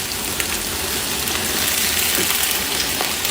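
Meat dropped into a hot pot for Iranian lubia dish sizzles loudly, a dense crackling hiss like heavy rain with occasional sharper pops, close and continuous.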